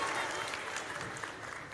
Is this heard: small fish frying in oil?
no